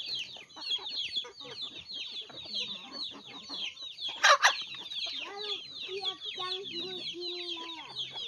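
Hens cluck and chatter softly nearby in a continuous low murmur, broken by one brief sharp clatter partway through.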